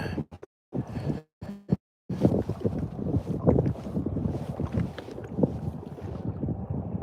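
A Sea-Doo personal watercraft rumbles steadily across the water on the Marco River near Goodland, Florida, with wind buffeting the microphone and a few brief dropouts at the start.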